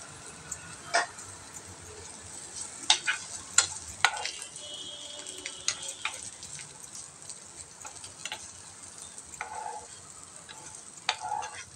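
Shengole, a traditional Maharashtrian dish, stirred in a pan as it cooks: faint background sizzle with scattered scrapes and clinks of a spoon against the pan, several sharper knocks early on, no voices.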